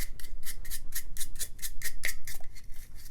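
An old cleaned toothbrush scrubs a Springfield Hellcat pistol grip in a steady run of about a dozen quick bristly strokes, close and clear, with no voices.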